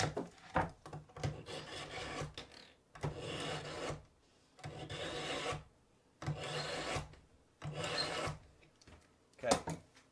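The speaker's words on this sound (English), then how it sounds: "Then sharpen your knife." A knife being sharpened while a deer's hind leg is butchered: close, fairly loud rasping strokes come in about six rhythmic bursts with short pauses between them.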